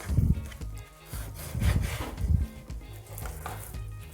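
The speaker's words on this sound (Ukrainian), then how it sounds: "Беру його, ріжу на смужки і складаю у миску." A knife slices pork shoulder into strips for homemade sausage, giving repeated soft, close rubbing strokes with a low, fleshy drag and steady back-and-forth rhythm, no voices over it.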